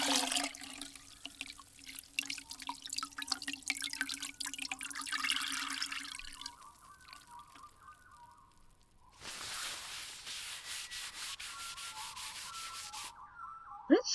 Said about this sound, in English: I have a cool bucket of water and a cloth. Let me wipe away some of that sweat and grime.